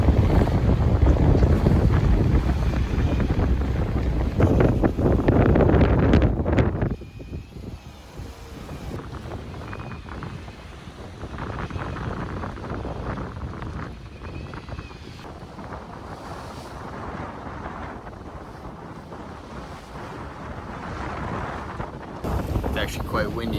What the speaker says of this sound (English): It's actually quite windy now.